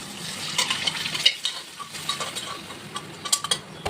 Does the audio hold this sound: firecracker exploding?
no